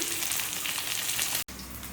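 Fish sizzles loudly in hot oil, a dense crackling hiss close by, broken by a brief cut before the frying continues.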